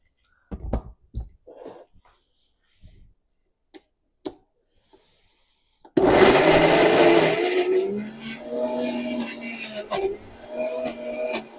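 A countertop blender grinds a very thick high-protein brownie batter made with baking powder, starting abruptly after a few soft knocks and running loudly and steadily for about six seconds while the motor strains.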